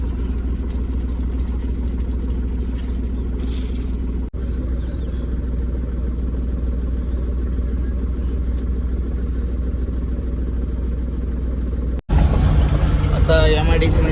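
An Ashok Leyland Dost truck engine runs with a steady low rumble throughout, heard from inside the cab, with a louder, rougher burst after a brief cut near the end.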